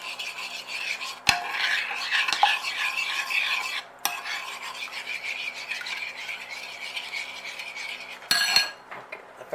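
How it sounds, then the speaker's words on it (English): Banana caramel muffin batter is stirred in a bowl with continuous, close, scraping and swishing strokes, broken by a few sharp knocks of the utensil against the bowl. "Alright, mix everything up."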